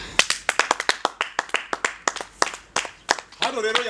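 Young children in a classroom clap in a quick, uneven burst of about twenty claps, loud and close, and then a voice starts speaking at the end.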